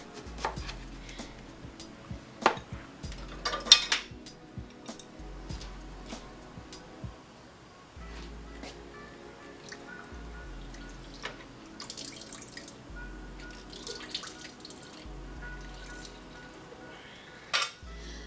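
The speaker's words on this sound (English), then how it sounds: "we're going to juice 1/2 of our lemon" Half a lemon being juiced by hand yields intermittent wet squelches and drips, scattered among light kitchen clinks and taps that come and go over quiet stretches.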